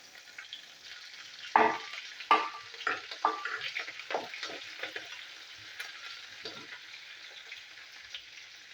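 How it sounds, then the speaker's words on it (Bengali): Bay leaves, green chilies and cumin seeds drop into hot oil for a tempering, setting off a few sharp spitting crackles that settle into a light, fading sizzle with occasional pops, close and without speech. "তেল গরম হয়ে গেছে, আমি দিয়ে দেবো দুটো তেজপাতা, কাঁচা লঙ্কা আর জিরের ফোড়ন"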